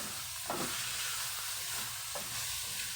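Garlic and onion fry in a pan with a steady, close sizzle, and a few brief stirring scrapes break through it. No one speaks.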